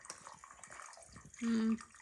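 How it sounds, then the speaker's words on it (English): Water runs and splashes steadily under faint background voices, with a brief louder whooshing surge near the end; moderately quiet, close. "You can hear water running now."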